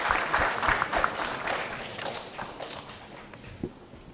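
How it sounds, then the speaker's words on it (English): An audience at a gut-health symposium claps after an interactive session: a burst of mixed, overlapping claps starts fairly loud, then thins out and fades toward silence, with a couple of late stray claps. "We should have a louder round of applause."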